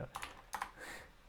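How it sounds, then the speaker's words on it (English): Quick bursts of typing on a computer keyboard, a few clustered key clicks close by over a steady low hum of room noise. "I can't even type right now."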